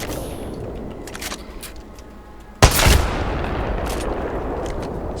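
Weapon fire in the battle royale game Apex Legends: a sudden loud, booming gunshot midway that rings out over a steady background hum, preceded by quieter clicks and handling noises.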